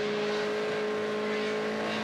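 An LMP2 prototype race car at the Le Mans 24 Hours gives a steady, droning engine roar with a high whine over it, heard from a distance and holding even for two seconds.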